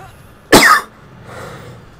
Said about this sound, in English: I'm not coughing, you are.